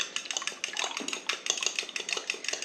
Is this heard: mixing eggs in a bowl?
yes